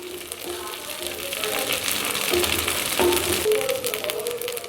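Masala idli browning in a hot pan gives a steady, moderate sizzle and crackle throughout, with a voice speaking over the frying.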